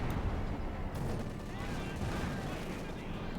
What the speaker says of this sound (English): we got incendiary bombing run right at the entrance here to F3rig's base.